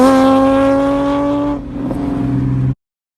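A Nissan 350Z with a cheap eBay muffler exhaust roars past close by, a loud steady engine drone that drops in pitch as it passes, then cuts off abruptly.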